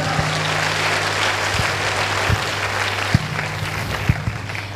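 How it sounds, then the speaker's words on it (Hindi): Audience clapping at a Safe Shop recognition event, a steady sustained round of applause with a low hum underneath and a few sharper claps standing out. "जोरदार ताली है दोस्तों"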